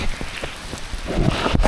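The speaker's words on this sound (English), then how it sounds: "That's some rain, isn't it?" Heavy rain at Carrickfergus pours down in a dense, steady hiss, with scattered louder drops splattering close by.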